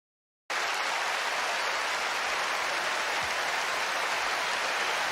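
A church congregation breaks into loud, sustained applause at a service, starting abruptly and continuing as a dense, even roar of clapping.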